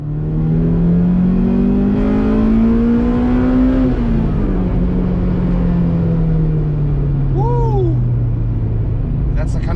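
Spoon-tuned Honda Civic Type R EK9 engine rising in pitch as it revs hard through the gears, then settling into a steady drone, loud and close throughout from inside the car, with brief voices near the end.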